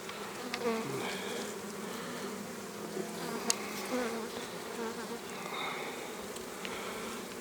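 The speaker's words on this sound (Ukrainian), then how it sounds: "в сім'ї дуже багато молодої бджоли" A dense, steady buzzing of many honeybees in a hive full of young bees fills the whole stretch, close and continuous with no voices.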